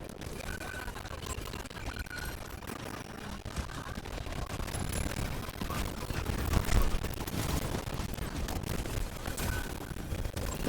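Dense, continuous gunfire from a team shooter game, a steady barrage of overlapping shots and bursts with a few louder blasts, filling the whole stretch at a fairly even level.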